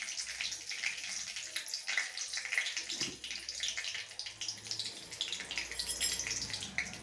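Mustard seeds splutter in hot oil as tempering for a spicy bitter gourd pickle, a dense, steady crackle of small pops and sizzles with no voices.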